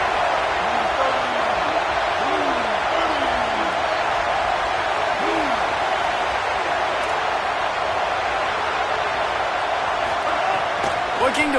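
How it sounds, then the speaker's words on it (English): A football stadium crowd roars steadily to help the defense, a dense, unbroken wall of noise that holds at the same loudness throughout, with a commentator's voice faintly heard over it. "Listen to this crowd just shaking the girders of this place"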